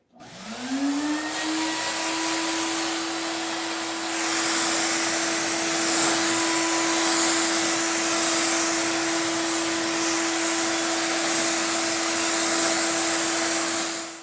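An aerosol can sprays DYC gloss topcoat with gold alloy pearl onto a wheel. It makes a steady, loud, close hiss with a tonal whine that rises at the start, continuing unbroken for the whole stretch.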